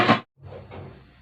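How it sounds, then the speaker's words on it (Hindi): A home pressure cooker's lid is shut during stew making, with a short loud clatter of metal at the start, a brief pause, then a softer scraping and settling as it locks into place. "अब हम कुकर को बंद कर देंगे।"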